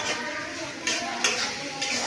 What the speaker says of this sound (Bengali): আর পেঁয়াজটা ভেজে দেবো।